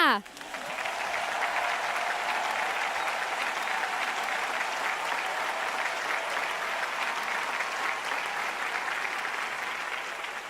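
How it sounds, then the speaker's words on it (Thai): A seated audience at a Thai Amway diamond-level award ceremony breaks into long, even applause after a brief spoken line, the clapping holding steady and full for the rest of the clip. "ขอเรียนเชิญนะ ท่านทั้งสองนะลุกขึ้นยืนนะแล้วก็รับเสียงปรบมือจากทั้งฮอด้วยค่ะ"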